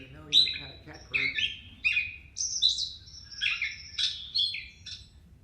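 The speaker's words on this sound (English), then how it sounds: "Hear that? That's the catbird." A catbird sings a run of varied squeaky, mewing phrases, about seven bursts in quick succession, clear and fairly close above a low background hum.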